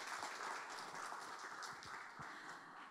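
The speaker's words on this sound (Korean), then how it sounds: "네, 박수 부탁드리겠습니다" Audience applause at a 2020 trade security day commemoration ceremony, a quiet, steady patter of many hands clapping at a distance, sustained evenly throughout without voices.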